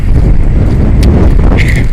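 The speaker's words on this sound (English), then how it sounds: "Really windy." Loud, constant wind buffets the microphone with heavy low rumbling throughout, no voices heard.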